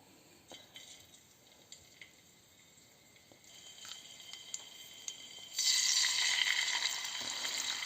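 Pork ribs sizzle in a hot frying pan, a soft crackle with small pops that swells into a loud, steady hiss over the last couple of seconds.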